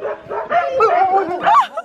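A dog yips and whines in short, high, excited bursts, loud and close, at a snowy yurt camp in Lapland.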